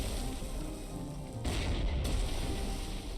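Artillery fire in the World War II strategy game Panzer Corps 2 striking an artillery unit, a muffled boom rolling into a dull rumble over steady background game noise.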